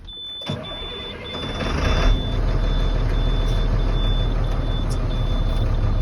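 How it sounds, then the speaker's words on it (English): A truck engine cranks and catches, then settles into a loud, steady diesel idle, with a faint high-pitched beep repeating in the background. "Now I'm going to start the truck back up"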